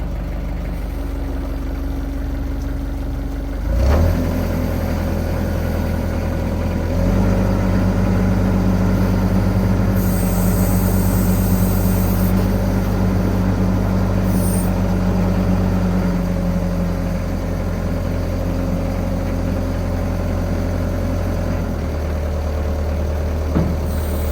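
A construction machine's diesel engine runs at a steady rumble, with shifts in pitch and load as it moves forward and stops, heard close and continuous with no talking.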